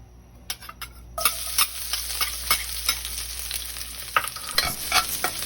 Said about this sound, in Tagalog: igisa natin ang bawang hanggang sa pumula ng bahagya